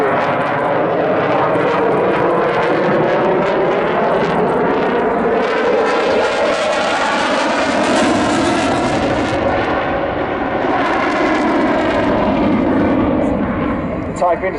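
A Eurofighter Typhoon fighter jet of the RAF's 29 Squadron display team flies at Southport Air Show 2019, its loud, continuous engine roar swelling and fading as it passes, with an announcer talking over it throughout.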